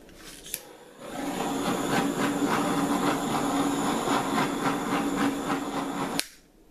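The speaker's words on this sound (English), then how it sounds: "I'm now going to add the torch over all of them and we will see what happens." A hand torch flame passes over acrylic paint pours on tiles with silicone added, a steady loud hissing roar of about five seconds bracketed by sharp clicks as it starts and shuts off.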